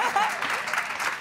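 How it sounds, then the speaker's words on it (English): Audience applause at a television cast reunion, a brief burst of steady, close clapping with a voice faintly over it. "let's give her another round of applause"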